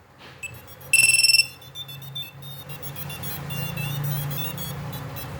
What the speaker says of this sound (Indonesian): Jadi buzzer ini memang langka dan susah.